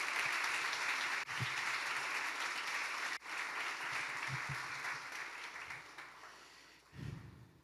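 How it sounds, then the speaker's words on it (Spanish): A church congregation claps together in a sustained, even round of applause that sounds faint and distant, with a few softer dips and no voices over it. "Vamos, aplaude eso."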